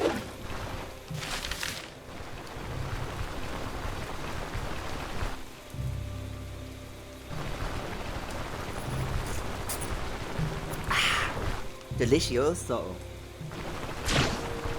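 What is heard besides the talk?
rain and thunder in the video game Stoneshard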